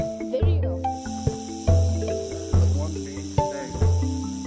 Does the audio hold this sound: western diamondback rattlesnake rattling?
yes